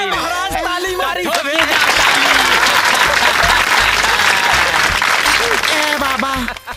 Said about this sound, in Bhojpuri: महाराज ताली मारी।